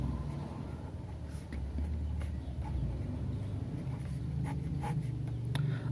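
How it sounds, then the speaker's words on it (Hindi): Pen or chalk writing during a Hindi-language grammar lesson, a faint continuous scratching with a few soft taps, heard alone at low level. "चलो नेगेटिव को भी एक बार लिख लेते हैं।"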